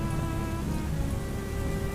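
Steady rain falling continuously, a dense even hiss of drops with a low rumbling undertone, uniform in loudness throughout with no voices.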